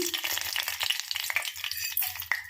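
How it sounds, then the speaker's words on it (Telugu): Spices, ginger-garlic paste, onions and curry leaves crackle and sizzle in hot oil, a dense, continuous frying hiss with a spoon stirring underneath. "తాలింపులు అయితే వేసుకుంటున్నాం కొంచెం అల్లం వెల్లుల్లి పేస్ట్ రెండు ఆనియన్స్ కరివేపాకు"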